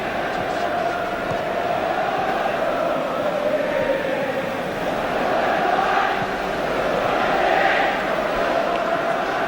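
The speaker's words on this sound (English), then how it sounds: "almost capacity crowd at Wembley" A large, near-capacity crowd at Wembley during a 1974 England v Portugal Euro qualifier football match, a steady broad roar swelling slightly throughout.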